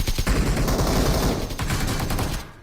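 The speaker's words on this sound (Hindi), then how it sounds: "देख रहा हो अभी जो इसने फायर करा ना" An enemy player in BGMI fires a rapid string of gunshots, loud bursts at the start that thin out and fade into scattered, more distant-sounding cracks, with no talking.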